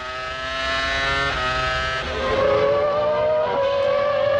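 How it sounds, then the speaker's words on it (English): A 1997 Formula One car at the Spanish Grand Prix revs hard with rapid throttle blips, a loud, continuous high-pitched engine wail that rises and shifts pitch, with no talking over it. "When you hear Jean Alesi's little size 7 feet dance on the throttle pedal."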